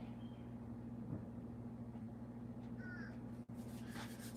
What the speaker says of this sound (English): You hear the crows outside.